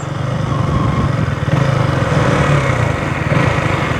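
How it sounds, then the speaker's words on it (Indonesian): KTM Duke 200 single-cylinder motorcycle engine running close by, a loud, buzzy, rapid putter that swells slightly as revs rise, continuous throughout. "dia karena menggunakan mesin 1 silinder dan juga cc-nya 200, jambakannya tuh ya lumayan berasa"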